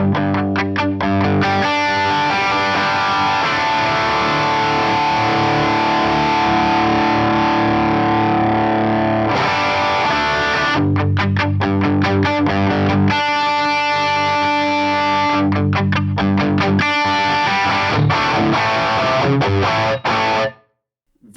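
Distorted electric guitar amp tone from an Axe FX3 with input dynamics engaged, thick sustained chords and riffs played loudly and continuously for about twenty seconds before cutting off abruptly.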